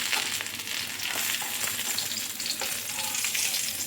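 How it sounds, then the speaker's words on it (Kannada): Fish wrapped in banana leaf fry in a pan with a constant loud sizzling crackle and occasional stirring scrapes, close up and without any talking. "2 ಮೀನು ಆಯಿತು, ಇನ್ನು 2 ಕೂಡ ಫ್ರೈ ಮಾಡ್ತೀನಿ."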